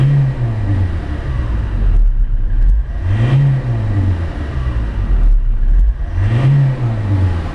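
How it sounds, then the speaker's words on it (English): A Ford Transit van engine revs up and eases back down three times in a steady cycle, loud and close, with a constant idle rumble around 800 RPM between revs. "A couple of revs up and down."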